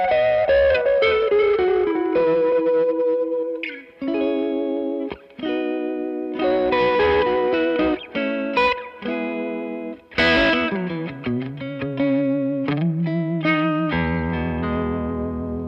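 Electric guitar runs through a Voodoo Vibe pedal in vibrato mode into a Jim Kelley Single Channel Reverb amp, with single notes and short phrases wobbling in pitch, a throbbing vibrato clearest on lower notes, and brief gaps between phrases.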